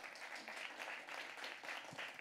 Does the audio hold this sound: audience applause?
yes